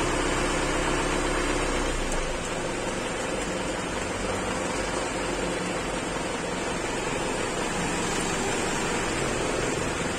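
An engine running with cooking oil in place of motor oil idles at around 700 RPM, giving a loud, steady rumble with broadband roar throughout and no talk.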